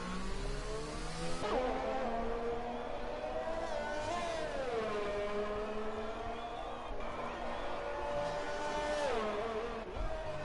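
A Formula 1 race car accelerates around Monaco in a racing video game, its high engine whine climbing through gears with sharp shift drops and dips for corners, loud and continuous with no talking.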